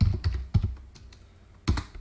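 Keys clatter on a computer keyboard during entry in a BBC Basic emulator, with a few quick irregular bursts of close, crisp keystrokes separated by pauses.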